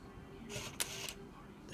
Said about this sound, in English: the shutter is firing